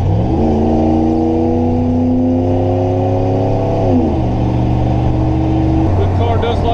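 Pontiac Firebird engine pulling hard through the gears under load, a loud close drone that climbs steadily in pitch, drops at a shift and keeps building, with someone talking over it throughout.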